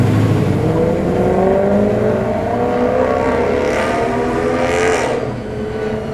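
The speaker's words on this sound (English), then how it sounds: "That's a Maserati that you hear." A Maserati engine revs loudly and continuously up close in a Sydney car park, its growl rising steadily in pitch, then easing slightly near the end.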